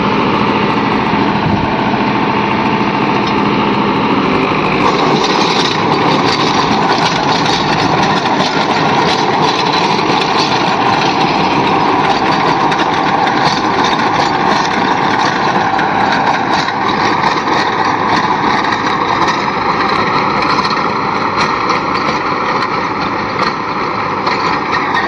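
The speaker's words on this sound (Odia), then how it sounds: "ଡ୍ରାଇଭରଟା ଆସିକି ଗାଡ଼ିଟା ଆମର ବିଲରେ ପୁରେଇକି ଚଷିଲାଣି" A tractor engine drones loudly and steadily while ploughing a farm field for a mung bean crop, close and continuous with no talk.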